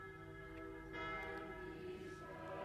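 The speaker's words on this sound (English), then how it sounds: "The bells continued to toll from afar." Church bells toll from afar, sustained ringing tones layering and decaying into a steady hum, faint and continuous without clear separate strikes.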